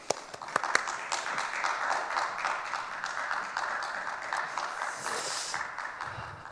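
Audience applause welcoming a guest pastor at a church family worship seminar, a steady wash of clapping lasting several seconds with a few sharper claps near the start.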